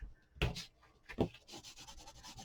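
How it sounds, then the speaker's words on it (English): A bone folder rubs firmly over paper on a handmade craft box, making close, dry scraping strokes in uneven bursts with a couple of louder passes. "Take our bone folder, and we're going to rub that just like so"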